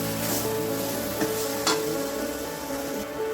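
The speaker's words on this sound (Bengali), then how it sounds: "তো এখন আমি ধনে পাতা দিয়ে একটু নাড়াচাড়া করে একটা পাত্রে নামিয়ে দেবো" Cabbage curry with mung dal and chopped coriander leaves sizzles steadily in a pan on a gas stove, with a few brief stirring scrapes standing out over the continuous frying hiss.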